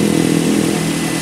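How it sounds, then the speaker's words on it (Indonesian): A car engine runs at a steady idle with the radiator open during a coolant change, a loud, even mechanical drone with light clatter that holds throughout. "kalau mesin sudah nyala seperti ini, pastikan air benar-benar ngalir"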